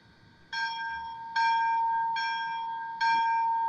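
A locomotive bell played through a Bachmann model train's TCS sound decoder rings four times at a steady pace, each clear metallic strike sustaining brightly into the next, loud and close in a quiet room.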